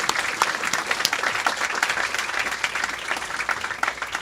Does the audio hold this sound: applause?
yes